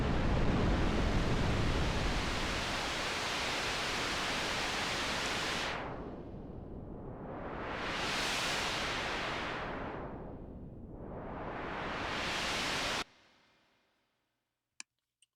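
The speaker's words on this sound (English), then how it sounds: "all the way over to what we would call red noise or brownish noise." Dense synthesizer red or brown noise, dark and rumbly at first, then sweeping up and down in slow whooshing swells like surf before cutting off abruptly.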